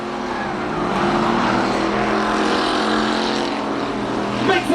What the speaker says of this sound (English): Before Caddy Bazaria breaks it into a standstill burnout.